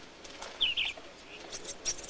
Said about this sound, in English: The bulbul is another bird that has spread here from Africa.